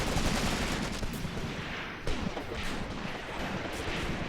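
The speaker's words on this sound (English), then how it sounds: "Some more machine gun rounds coming down on them." Dense, rolling gunfire and machine gun bursts from a World War II battle in the tactical game Graviteam Tactics: Mius Front, a steady rumbling barrage of distant shots heard without voices.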